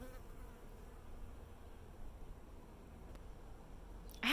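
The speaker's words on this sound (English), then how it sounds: "you can hear the bees buzzing" Bees buzz in a pollinator garden, a faint, steady insect drone spread across the scene, quiet and continuous, ending with a brief louder rustle.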